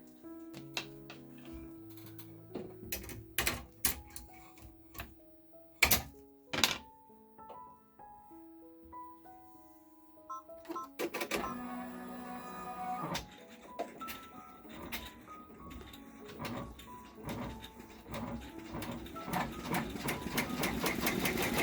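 Embroidery machine stitching a top stitch on an in-the-hoop zipper bag, a steady mechanical whirring with rapid repetitive needle ticks, irregular at first with a few sharp thunks, then running continuously and growing busier toward the end.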